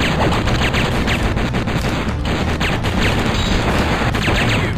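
Rapid, sustained bursts of heavy machine gun fire with booming impacts fill the Metal Slug XX arcade game action, dense and loud throughout.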